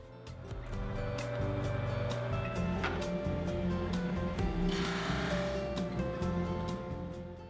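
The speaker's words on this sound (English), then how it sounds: "I use the jointer to flatten one side of each board before running them through the sander until they're all the same" A sander runs over wooden boards being brought to equal thickness for a cutting board, a steady loud grinding roar with rasping texture lasting the whole stretch.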